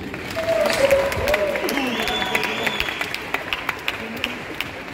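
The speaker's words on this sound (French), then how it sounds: "On peut l'applaudir encore une fois." Audience applause at the Paris Games Week 2023 cosplay championship, with sharp individual claps standing out above the crowd and a voice speaking briefly over the clapping early on.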